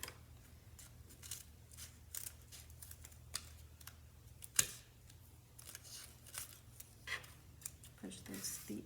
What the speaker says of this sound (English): we are going to cut those ends off. So go ahead and cut straight through that.